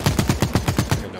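Rapid automatic gunfire in The Cycle: Frontier, about eight evenly spaced loud shots in a quick burst, close and punchy, ending abruptly.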